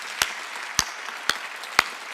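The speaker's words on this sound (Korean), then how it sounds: "박수 치려고 세게 치라" Four sharp, evenly spaced hand claps from a church congregation, crisp and fairly loud, about half a second apart over faint room background.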